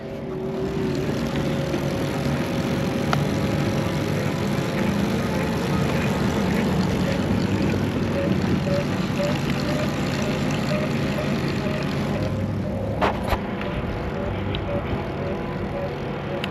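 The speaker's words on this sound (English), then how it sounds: "I want you all to listen to my motor." The electric motor of a TerraTrike Charge trike with a pedal-assist sensor runs as a steady whine under rolling road and wind noise for the whole stretch, with a brief clunk near the end.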